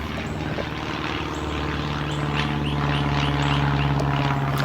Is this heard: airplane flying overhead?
yes